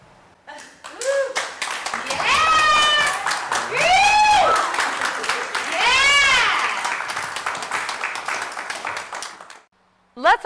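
An audience at a spotlight show performance applauds warmly, sustained dense clapping with loud whoops and cheers rising over it, before the applause trails off into quiet.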